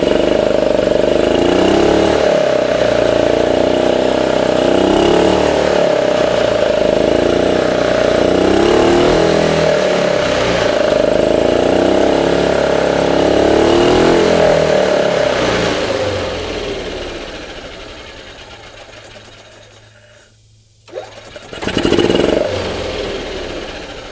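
A Yamaha G29 gas golf cart engine running steadily after a starter rebuild, a loud, even mid-pitched drone that holds for about twenty seconds, then fades and cuts out before a brief restart surge.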